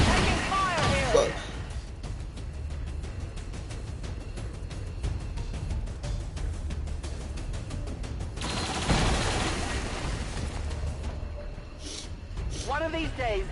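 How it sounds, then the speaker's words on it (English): Sustained rapid gunfire rattles through an XCOM 2 firefight, with a dense stretch of shots, louder bursts at the start and near the end, and voices mixed in. "I'm taking fire here."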